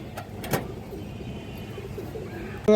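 Pigeons kept by a breeder coo softly in a few short calls, faint against a quiet background hum, with a louder burst cutting in at the very end.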